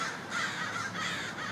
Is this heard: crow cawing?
yes